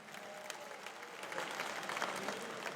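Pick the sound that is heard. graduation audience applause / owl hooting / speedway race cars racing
graduation audience applause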